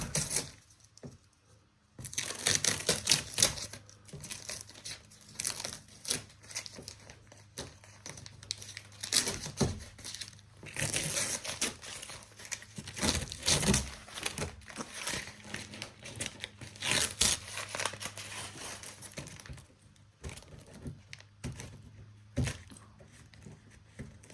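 Masking tape crinkles and tears as it is peeled away from a Cadillac CTS coupe rear bumper, a close, irregular run of ripping and rustling bursts with brief quiet gaps in between.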